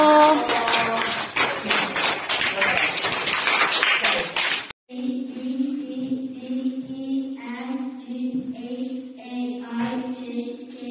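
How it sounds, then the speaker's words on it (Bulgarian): Applause for a child, a few seconds of brisk close hand clapping that cuts off abruptly, followed by quieter tonal sound. "Я аплодисменти."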